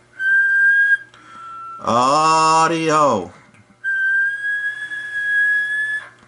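A person whistles steady sustained tones into the microphone of a Sonar FS2340 radio with a tube swap audio mod, heard through the set with a brief spoken word between whistles.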